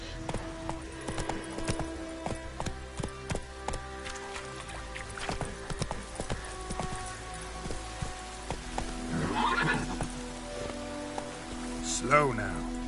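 Roach, a horse in The Witcher 3, trots with rhythmic clip-clop hoofbeats under rain, then gives a brief neigh near the end; a voice speaks over part of it.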